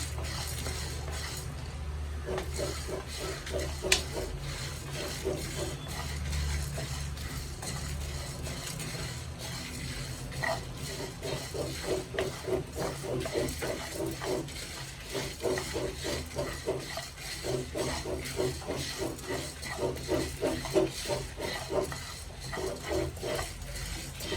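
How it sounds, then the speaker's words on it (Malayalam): Coriander and cumin seeds dry roasting in a pan, a soft steady crackle and rustle with repeated light scraping of stirring over a low background hum. "മല്ലിയും കൂടെ ചേർത്ത് കൊടുക്കാം എല്ലാം ഓരോ സ്പൂൺ എടുത്തിട്ടുണ്ട് ഓരോ ടേബിൾ സ്പൂണാണ് ജീരകം കാൽ ടീസ്പൂൺ എടുത്തിട്ടുണ്ട് ഇത് നന്നായിട്ടൊന്ന് വറുത്തെടുക്കാം"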